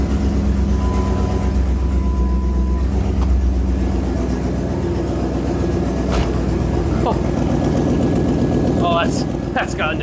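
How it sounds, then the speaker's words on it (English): A 1997 Jeep Grand Cherokee ZJ engine idles with an exhaust leak, a steady loud low rumble with a rhythmic puffing ticking texture throughout, while someone talks over it. "Oh, that has totally got an exhaust leak."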